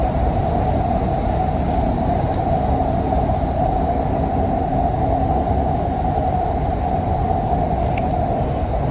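A metro train rumbles steadily, a loud continuous low roar with a faint high whine, with no voices.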